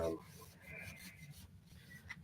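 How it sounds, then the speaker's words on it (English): Sandpaper rubs steadily over a model airplane part, a soft, close scratching with a quiet, even rhythm. "So not a lot going on here today other than sanding."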